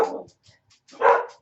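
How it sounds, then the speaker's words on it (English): A young dog gives two loud, close barks separated by a pause of near silence, with a few faint small sounds between them. "our dog barked at nothing and woken us up"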